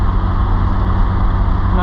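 A 2003 Mitsubishi Eclipse GTS Spyder with a 3.0L V6 and five-speed manual cruising in fifth gear, its steady engine and road drone loud and constant from inside the cabin, with a person talking over it.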